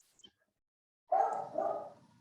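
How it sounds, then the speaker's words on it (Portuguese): A pet dog barks once in a home during a remote interview, a single close, fairly loud woof with a trailing tail after near silence. "O meu cachorro tá latindo"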